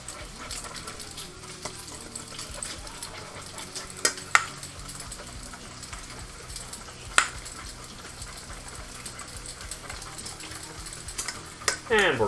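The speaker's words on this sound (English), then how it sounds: "And we're whisking, and we're whisking." Protein pancake batter being lightly whisked in a bowl, a soft continuous scraping and stirring with occasional sharp clinks of the whisk against the side, close and fairly quiet.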